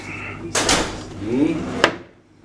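A drawer in a hotel room slides open with a scraping rattle, then shuts with a sharp knock; a voice murmurs briefly between.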